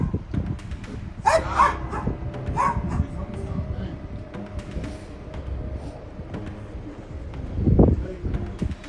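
Dogs bark in bursts at night, with a louder volley near the end, mixed with background chatter and a few voices.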